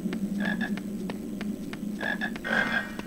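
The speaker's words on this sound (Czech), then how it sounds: "Žába." A frog croaks in a Harry Potter video game, giving a rhythmic series of short, clicking croaks in bursts over a soft ambient background, moderately close and clear.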